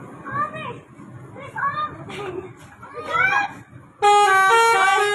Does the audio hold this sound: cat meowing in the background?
no